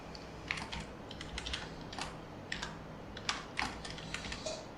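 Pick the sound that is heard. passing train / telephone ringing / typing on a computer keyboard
typing on a computer keyboard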